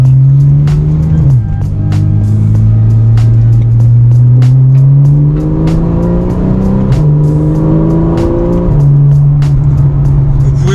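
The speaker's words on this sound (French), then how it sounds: "Vous voyez là on a passé vitesse à 4000 tours et c'est vraiment jouissif au niveau sonorité." Porsche 911 50th anniversary edition with a 3.8-litre, 400-horsepower flat-six, revving loud and close as it climbs through the gears, with a strong droning engine note that rises, dips briefly at each shift and climbs again.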